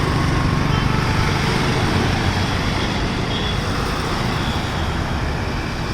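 A car creeping slowly forward on a driving school practice ground, its steady engine and road rumble filling the clip as one loud, unbroken drone with no clear change in pace.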